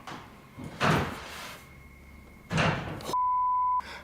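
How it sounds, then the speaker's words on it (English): A door closes inside the Stanley Hotel with two dull, fairly loud thumps about two seconds apart, followed by a short, steady electronic beep in an otherwise quiet room. "I just had a door closed on me."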